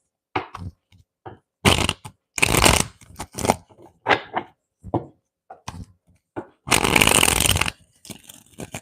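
Tarot cards shuffled by hand in sharp irregular bursts of riffling and slapping, loud and near, with two longer riffles, quiet gaps between strokes and a few soft handling noises.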